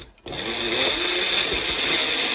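A Magic Bullet blender switches on after a brief pause and runs steadily, a loud, even high-pitched whirring motor mixing ingredients for a peanut butter banana recipe.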